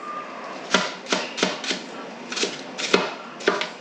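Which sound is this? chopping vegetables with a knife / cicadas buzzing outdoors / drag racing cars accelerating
chopping vegetables with a knife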